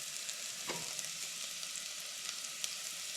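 About a teaspoon of brown mustard seeds roasting in a hot pan, giving a soft, steady sizzle with a few faint crackles and one brief clink, heard alone and fairly quiet.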